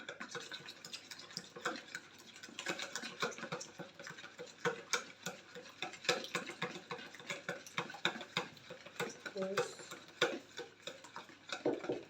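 Eggs and syrup stirred into gluten-free pancake batter of rice and corn flour, a close, rapid ticking and scraping of utensil against bowl repeating in quick uneven strokes, fairly quiet.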